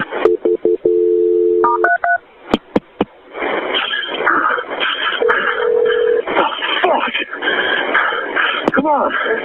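Telephone line dialing the fire department during an emergency call, with a series of touch-tone beeps and a sustained tone, clicks, then a ringback tone under a dispatcher's voice talking over the line.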